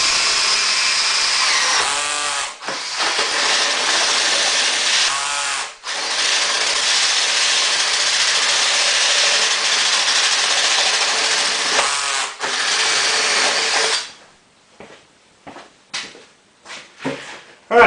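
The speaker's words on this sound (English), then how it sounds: "So the next step is just drilling those holes." A power drill with a hole saw cuts holes for a homemade deer feeder, running loud and continuous for about twelve seconds with brief dips where the cut catches, then stopping into scattered clatter and handling sounds.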